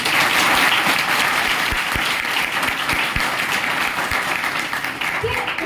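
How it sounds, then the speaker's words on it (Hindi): Loud, sustained applause from a seated audience at a motivational business talk, a dense steady wash of clapping heard close, with a few voices mixed in beneath it. "स्वामी कुंडू सर के लिए एक जबरदस्त ताली होनी चाहिए।"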